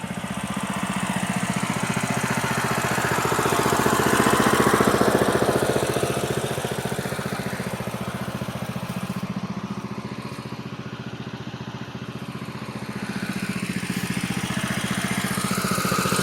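A small gasoline engine idles steadily with no fuel left, running on what remains in the carburetor; the loud, even buzzing drone swells and dips slightly in strength over a long stretch, with no one speaking.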